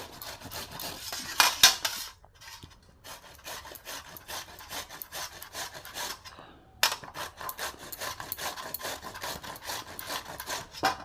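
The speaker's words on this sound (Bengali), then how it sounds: "মিহি যে গ্রেটারটা সেই দিয়ে আমি গ্রেট করে নেব" Tender young bottle gourd rasps against a fine grater in quick repeated strokes, with a scratchy rhythmic scraping that pauses briefly twice before resuming at close range.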